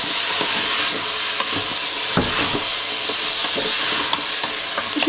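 A spoonful of thyme is stirred into a sizzling cooking pan: a loud continuous frying hiss with soft scraping strokes of a utensil at irregular intervals, close by and without talk.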